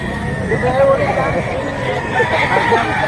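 Roosters at a chicken market in Lipa, Batangas, crowing amid a noisy crowd, with a drawn-out crow rising over steady chatter and bargaining voices close by.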